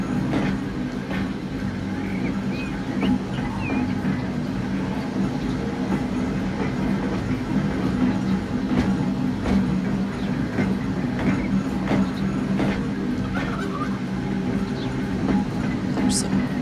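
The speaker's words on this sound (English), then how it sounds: "Let's watch a tram. Kind of loud, but let's see." A tram rolls past at steady loudness with a rumbling, clattering wheel sound throughout, an outdoor passing heard nearby with no talk over it.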